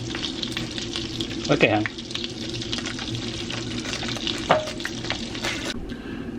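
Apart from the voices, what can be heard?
food frying in a tub of butter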